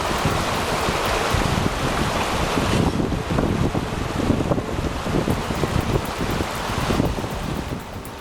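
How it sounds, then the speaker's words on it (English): Raging floodwater rushes past a truck attempting a flooded off-road crossing, a loud, continuous broadband roar and churn with gusty buffeting that holds steady for the whole stretch, with no voices. "Yikes! That water is raging."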